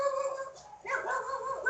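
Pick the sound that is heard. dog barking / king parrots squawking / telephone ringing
dog barking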